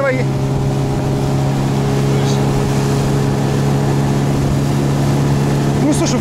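Suzuki 9.9 outboard motor pushing a heavily loaded boat, a steady loud engine drone with a constant hum, heard close with faint voices underneath.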